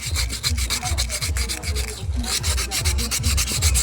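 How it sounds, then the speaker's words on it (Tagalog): Sandpaper rubs back and forth on an electric fan part by hand, a steady rhythm of close, scratchy strokes repeating roughly twice per second with no talking. "Ito yung lihain lang."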